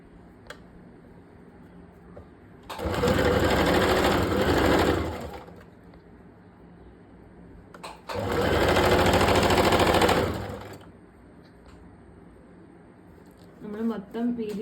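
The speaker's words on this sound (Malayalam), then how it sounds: "ഈ എൻഡ് വെച്ചിട്ട് ഇതിന് മുകളിൽ കൂടി ഇതുപോലെ സ്റ്റിച്ച് ചെയ്തെടുക്കണം." Sewing machine stitching a georgette shirt, two sustained bursts of steady, close whirring stitching separated by a pause, with quiet room sound and brief talk around them.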